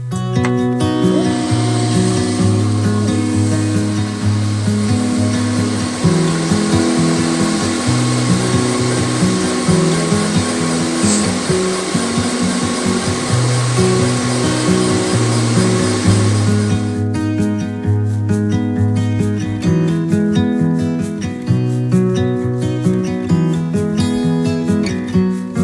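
An xTool S1 laser cutting machine runs steadily and loudly, with a constant whirring fan-and-motor drone and a brighter hiss that drops away partway through.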